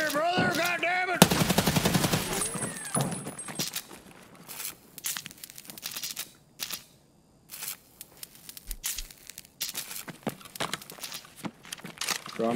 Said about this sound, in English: we're shooting in here already